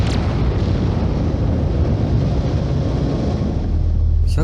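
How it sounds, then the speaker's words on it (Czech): Cartoon space battle with cannons firing, a dense continuous roar of blasts and booms filling the whole stretch at high volume, with no pauses between explosions. "Sakra, už po nás někdo zase střílí."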